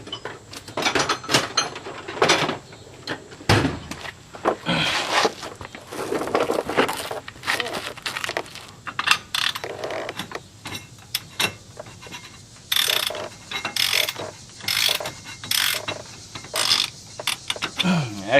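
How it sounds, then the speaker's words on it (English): Ratchet wrench clicking while loosening a tie rod on a 2004 Nissan Maxima, rapid bursts of close, loud pawl clicks in repeated strokes with short pauses between them. "I've already got it loose, so now I'm just going to kind of ratchet it."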